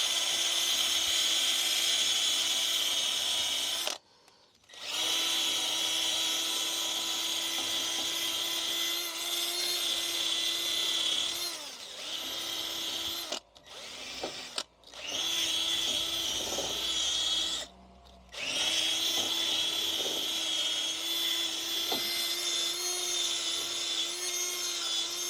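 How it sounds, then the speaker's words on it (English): Wire brush spun by a power drill scrubbing a brake hub on an MG TF, a loud, sustained whirring scrape broken by a few brief pauses. "just a simple wire brush on a drill does wonders"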